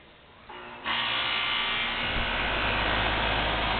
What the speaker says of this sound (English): The compressor just kicked in.